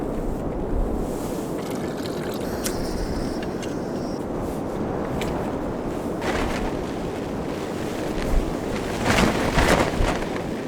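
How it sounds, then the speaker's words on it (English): Steady wind blows across the microphone in open country during a deer hunt, a constant low rush with gusts swelling near the end, and no voices. "It's windy, man."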